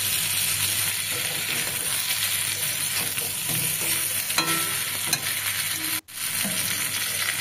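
Steady sizzling of pointed gourd pieces frying in a pan, with occasional scraping and stirring clinks, continuous and moderately loud, no voices.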